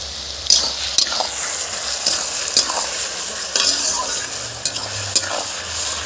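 Potatoes frying in hot oil in a wok, a steady loud sizzle with periodic sharp clacks of a spatula stirring against the pan, close by and without talk.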